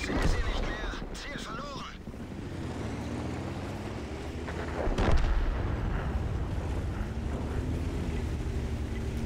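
Tank cannon fire in the World of Tanks video game: a couple of heavy booming shots with a sharp crack, separated by several seconds, over a rumbling engine and ambient battle noise.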